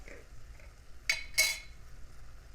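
A metal spoon stirs dry chili mix in a cooking pot for homemade chili, giving two quick, faint clinks against the pot over a quiet background.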